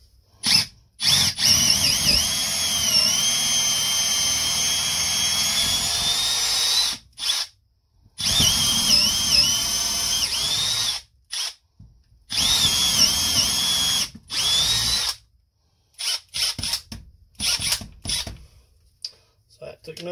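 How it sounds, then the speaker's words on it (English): A Milwaukee 2598-22 cordless drill in drill mode at speed setting two whines loudly in long runs of several seconds, then stops and starts in short bursts, with brief pauses and some close mechanical clatter between. "Alright, it's set on drill. We're going to set it on number two."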